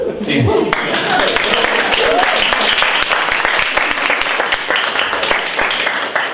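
Students and guests at a junior hackathon in Manchester applaud a team member. The clapping is dense and steady, with voices audible beneath it.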